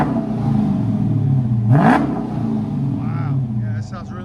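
The 6.4L HEMI V8 of a 2013 Dodge Charger SRT8 with Jones mufflers idles with a lumpy rumble, then revs sharply once and settles back to idle, with brief voices near the end.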